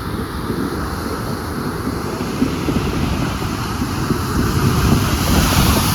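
Waves wash up over the rocks at Paradise Beach in a steady, loud rush of surf with wind noise over the microphone, continuing without a break and building slightly toward the end.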